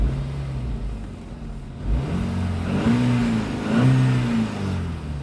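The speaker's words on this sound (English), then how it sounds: "the engine sounds very healthy now" A car engine runs steadily nearby, its low hum rising in a couple of brief revs before settling back.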